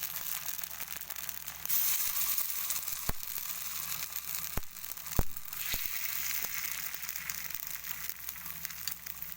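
Gunta ponganalu batter is spooned into a hot pan and fries with a steady, bright sizzle that runs throughout. A few sharp ticks and clinks break in as each spoonful goes in, close up and with no talking.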